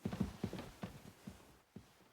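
Horse hooves clip-clop on the ground in Kingdom Come: Deliverance II, a quick run of steady footfalls that slows into a few spaced, fading steps, alone without speech.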